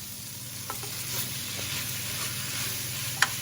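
Chicken noodle soup simmers in a pot with a soft, steady bubbling hiss, broken by a few faint scrapes and one sharper clink as it is stirred.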